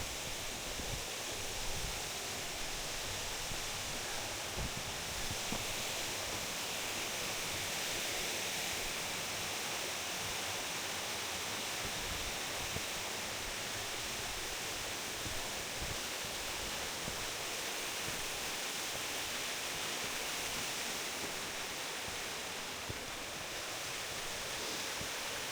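A creek waterfall rushes loudly beside a steep mountain trail on the way up Kings Peak, a dense, unbroken roar of falling water close by for the whole stretch.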